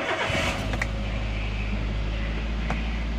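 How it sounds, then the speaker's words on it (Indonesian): A cold Toyota Avanza or Daihatsu Xenia engine fires up with a quick starter whirr, then settles into a loud, steady high idle close by, with no voices. "Kita hidupkan dulu mesinnya"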